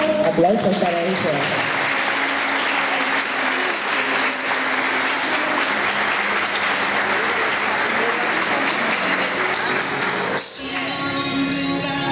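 An audience at a sign language course diploma ceremony in Malvinas Argentinas applauds steadily and loudly for a graduate, continuous crowd clapping throughout with voices mixed in.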